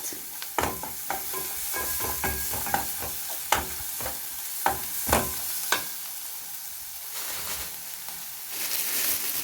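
Garlic frying in a pot for a meat-and-okra stew, a soft continuous sizzle with several distinct scrapes and knocks of a spoon stirring, ending in a steadier hiss of frying.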